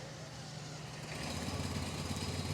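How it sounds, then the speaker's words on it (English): A 2025 Earth & Turf 415SP mower engine starts with the choke pulled and settles into a low, steady idle that grows a little louder partway through, with no talking. "pull the choke and start your engine"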